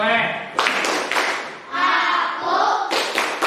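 A group claps in rhythm during a tepuk anak soleh chant in an Islamic religious education class, sharp hand bursts landing between loud sung and chanted voices that carry the call-and-response.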